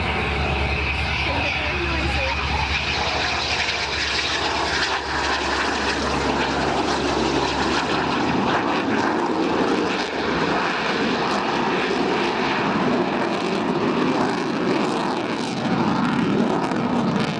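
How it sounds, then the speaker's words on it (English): A Eurofighter Typhoon flying a low-speed Cuban 8 display roars continuously with loud, broadband jet engine noise, a deep rumble fading in the first half as the roar carries on; a commentator talks over it. "as Charlie finishes the second half of the low-speed Cuban 8"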